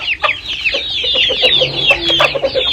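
A Pakistani-breed Aseel rooster clucks steadily and close by, its short repeated calls running without pause through the whole stretch, with no voices.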